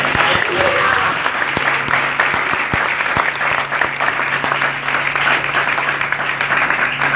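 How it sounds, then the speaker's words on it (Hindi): Sustained applause from a church congregation, dense steady clapping throughout with a few sharper individual claps standing out. "जरा यीशु ने जोर से तालियां बजाइए।"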